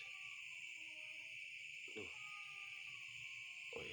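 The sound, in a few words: cat meowing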